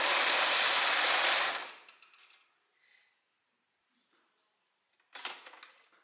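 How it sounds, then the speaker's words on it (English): A home sewing machine running to pull the threads out, a loud steady whirring burst for about a second and a half that cuts off, followed by quiet handling clicks and a short clatter near the end. "now I'm gonna start sewing to get all the thread out of my machine."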